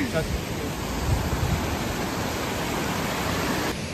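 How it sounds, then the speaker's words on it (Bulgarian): A waterfall near Karlovo, Bulgaria, pours out a continuous, even rushing roar, close and full, holding steady before cutting off near the end. "Още малко сме на водопада."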